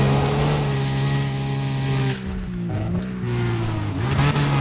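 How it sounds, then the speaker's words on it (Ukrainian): A car accelerating hard in the racing game Need for Speed: Undercover during a sprint race, with a steady loud engine drone that rises in pitch, drops briefly as the gear shifts, then climbs again. "Так, я поки ще в лідерах прискорюємось"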